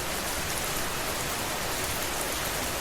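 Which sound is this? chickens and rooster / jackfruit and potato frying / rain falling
rain falling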